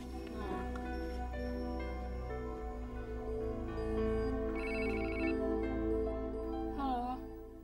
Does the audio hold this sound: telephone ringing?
yes